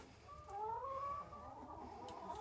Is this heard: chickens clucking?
yes